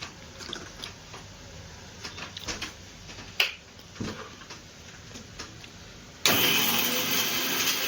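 After some quiet rustling and small clicks, an electric mixer grinder roars to life near the end, grinding dry chilli, cumin and ginger into paste with a loud, steady whirring drone.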